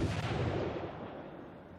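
Naval ship gun fire in the video game World of Warships, a single deep booming shot that decays with a rumbling tail, fairly quiet and with no talk.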